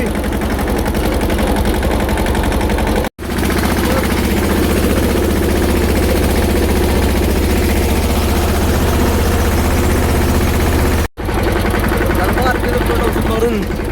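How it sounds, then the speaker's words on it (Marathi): Farm tractor engine running close by with a loud, steady low rumble that continues throughout, interrupted by two brief dropouts, while a person talks over it. "त्यासाठी ट्रॅक्टर टाकून चालू केलं"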